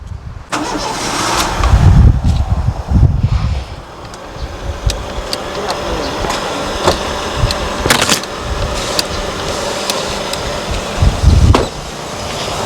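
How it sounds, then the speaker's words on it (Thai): An old, cheap used car being checked for a warped cylinder head or leaking head gasket cranks briefly and starts up close, then settles into a steady idle with a few short revs. "อ่าเดี๋ยวสตาร์ทเครื่องก่อน"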